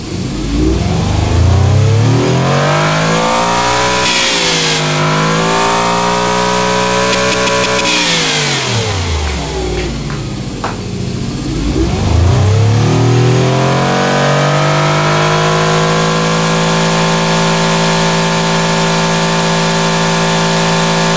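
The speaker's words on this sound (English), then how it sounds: "16 pistons dancing up and down, making thousands and thousands of horsepower." A sixteen-cylinder, thousands-of-horsepower engine in the car tycoon game Automation revs loudly with no talk, its pitch sweeping up and down in repeated waves before settling into a sustained high drone.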